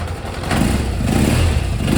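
A Kawasaki Zephyr 750 four-cylinder motorcycle engine runs after restoration, a steady, loud close idle with a slight rise in revs partway through.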